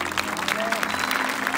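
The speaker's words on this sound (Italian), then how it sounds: "Un forte applauso" Dense, steady applause from an audience at a cultural event hall, a continuous wash of clapping with crowd murmur and voices mixed in underneath.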